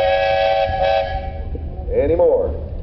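A steam traction engine at a parade blows a long, steady whistle tone, then a short wavering toot follows while an announcer talks over a loudspeaker.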